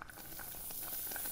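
Water bubbling at a boil in a kitchen pot with cheese dropped in, a steady close hiss and sizzle with no talk.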